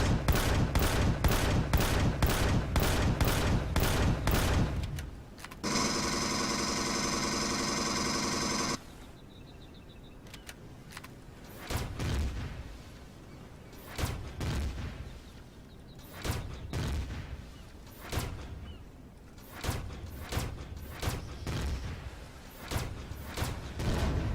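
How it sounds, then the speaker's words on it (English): Rapid bursts of heavy plasma cannon fire in the game Empyrion: Galactic Survival, a long sustained buzzing discharge, then scattered loud blasts and thuds in a chaotic battle. "That plasma cannon's just fun."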